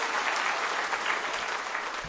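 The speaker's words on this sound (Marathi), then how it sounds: "आपण प्रांतिक तैलिक महासभेकरता जोरात टाळ्या वाजवून सर्वांनी आपण त्यांचं स्वागत करावं" A crowd at a political gathering in Kolhapur claps loudly to welcome guests from a provincial Teli community association, a continuous dense burst of applause at steady volume with no voices.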